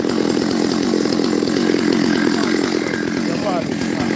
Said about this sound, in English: the chainsaw, the lumberjack is working the machine